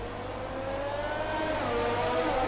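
An F1 race car engine in the video game F1 20 drones and whines, its pitch shifting upward as it revs, steady and fairly loud with no talking.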